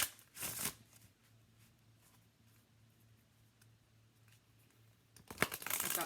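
An Enchanted Map Oracle card deck is shuffled in two quick riffling bursts, one at the start and one at the end, with a quiet stretch in between.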